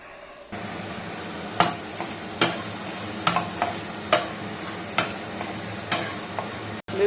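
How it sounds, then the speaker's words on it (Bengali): Mace and cubeb spices dry roasting on a tawa, a steady background hiss broken by sharp, irregular scraping and tapping of a spatula on the metal surface, close by and without talk. "এখন তাওয়াতে আমি নিয়েছি জয়িত্রীর ফুল কিছুটা এবং কাবাব চিনি কিছুটা, সেগুলোও এখন ড্রাই রোস্ট করে নিচ্ছি"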